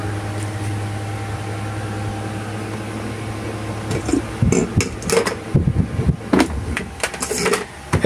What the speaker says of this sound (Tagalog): DC light and DC fan.